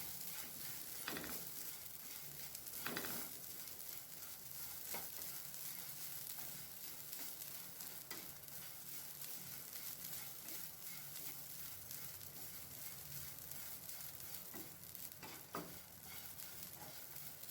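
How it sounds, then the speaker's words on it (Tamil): Grated coconut being stirred and roasted in a hot pan for a quick festival sweet, a faint continuous sizzle with periodic scraping strokes of the spoon, no voices. "இதையும் லைட்டாக அந்த சூட்லேயே பிரட்டிக்கலாம்"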